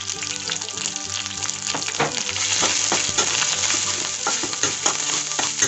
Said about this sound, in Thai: ผัดรแกงให้หอมเลยนะครับทุกคน